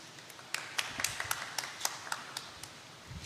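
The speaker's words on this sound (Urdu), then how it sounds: "پادری ساجد عظیم صاحب آپ کی تالیوں کی گونج میں وہ آئیں اور خداوند کے زندگی بخش کلام کی خدمت کریں" Sparse clapping from a church congregation in a Presbyterian service, a handful of separate sharp claps spread over a few seconds at moderate volume, with no voices over them.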